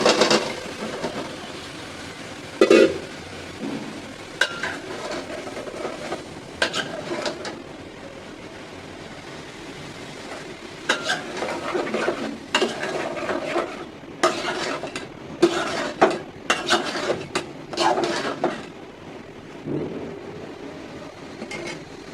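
Ridge gourd frying in a pan with garlic, turmeric, chili, coriander and salt, with a steady sizzle under repeated scraping stirs and metal utensil clatter against the pan, close and fairly loud.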